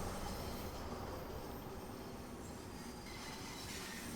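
A London Underground train runs steadily in the Train Sim World 2 game, a continuous rumbling rail noise with wheel squeal and faint clatter, fairly close and unbroken throughout.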